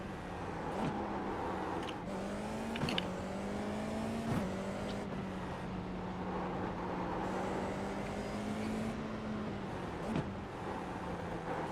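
Formula 4 race cars at the Long Beach street circuit, heard from inside a car: a steady loud engine drone with shifting pitch as another car runs close alongside, no voices.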